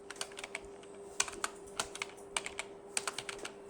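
Keys clatter on a computer keyboard during data entry in Excel, with quiet, irregular clicks and small bursts of keystrokes close by and no speech.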